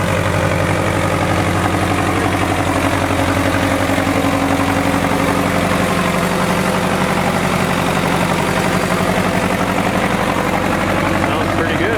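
An International Harvester 1468 tractor idles at a tractor show, a loud steady low engine rumble with constant vibration throughout, while people talk nearby.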